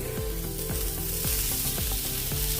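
Steady loud sizzling from a hot pan with asafoetida as boiled potatoes are added, with repeated scraping stirs at a regular rhythm as the food is tossed and mixed.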